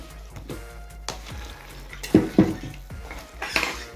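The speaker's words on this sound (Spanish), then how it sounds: "ya casi estamos revolviendo esto" Snail cocktail being stirred in a pot: a spoon scrapes and clanks against the metal in irregular strokes, with two louder knocks midway and a soft background hiss, no voices.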